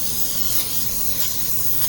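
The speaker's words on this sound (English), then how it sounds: "I'm just going to shake it and then I'm going to spray it everywhere." A steady, continuous aerosol hiss of cooking spray being sprayed into madeleine pans, close and fairly loud, lasting the whole stretch without pause.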